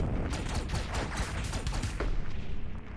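Rapid bullets fired in the pixel-art video game Owlboy, a steady close stream of shots with no speech over it.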